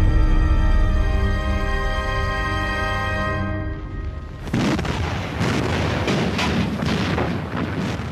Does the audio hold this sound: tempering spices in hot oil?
no